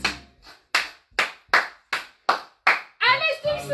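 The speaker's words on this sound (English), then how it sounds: "Can you clap your hands?" Hands clap in a steady, even rhythm, about eight crisp separate claps during a children's action song class at home, followed by a voice starting to speak or sing.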